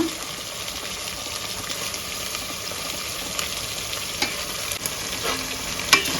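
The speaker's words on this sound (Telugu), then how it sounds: "నీట్గా అయితే కలిపేసుకోవాలా బాగా అన్ని టమోటాలన్నీ మగ్గే వరకు" Tomatoes frying in a pan for tomato pulao are stirred, giving a steady sizzle with scraping and stirring noises close by, and no talk.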